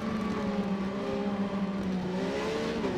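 A Triumph Street Triple RS motorcycle engine in Ride 4 runs at steady high revs, a loud, continuous buzzing drone with a smoothly shifting pitch, heard alone without voices.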